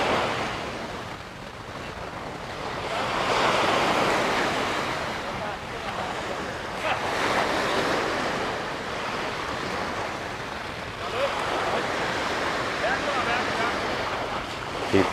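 Ocean surf rolling onto Jomtien beach, a steady broad wash of breaking waves with swells rising and falling, mixed with wind noise on the microphone and faint voices nearby.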